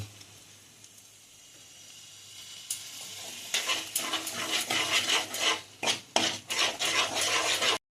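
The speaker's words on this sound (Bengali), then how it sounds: "তাও আমি আর একটু কষিয়ে নিচ্ছি" Spice paste cooking with yogurt in a pan over low heat: a faint quiet start, then a loud close sizzle with repeated stirring scrapes and clinks of a utensil against the pan; no talking.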